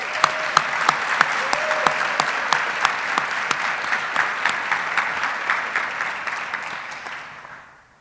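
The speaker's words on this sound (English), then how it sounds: "Let's give a round of applause to Jace on behalf of all our military kids" Strong, sustained applause from the audience at an Army promotion ceremony, with a few sharper individual claps standing out before it tapers off at the end.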